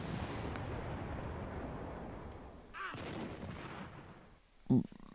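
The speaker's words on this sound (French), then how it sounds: "T'as le boulet de canon qui passe en même temps." A cannonball whooshes past overhead in the video game AltF4: a steady rushing roar through the first half fades, then a brief swell mid-clip, ending with a sharp loud impact-like burst near the end.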